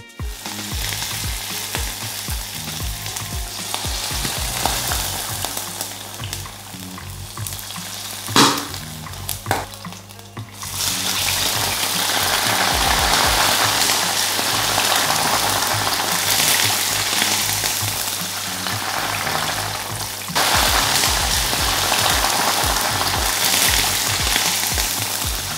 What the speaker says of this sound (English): let's put the super hot oil right on the top of the porchetta